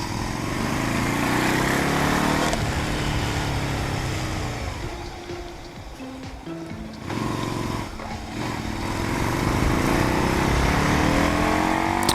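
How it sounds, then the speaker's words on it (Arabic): A 1993 Yamaha Virago 250 cruiser motorcycle engine running on a road ride, a steady low droning hum that dips and swells as the revs change, close and continuous with no talk. "هادشي كي تينعس الموتور"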